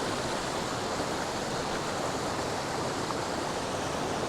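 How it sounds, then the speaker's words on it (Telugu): Etthipothala waterfall near Hyderabad roars as a steady, dense rush of falling water, unbroken and fairly loud throughout, with no voices. "ఫైనల్ వ్యూ ఆఫ్ ఎత్తిపోతల వాటర్ ఫాల్స్"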